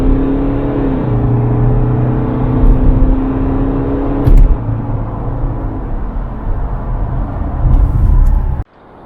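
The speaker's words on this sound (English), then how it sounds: "even joining a slip road, is if you put your foot down" A BMW X3 F25 2.0d xDrive M Sport diesel pulls hard onto a motorway slip road, a loud, steady engine drone and road roar heard from inside the cabin, with a gear change midway, ending in an abrupt cut.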